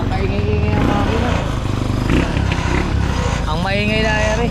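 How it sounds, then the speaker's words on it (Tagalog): A BMW motorcycle engine idles steadily at close range, a continuous low rumble with no revving, while people talk over it throughout. "Walang kaingay-ingay ang makina."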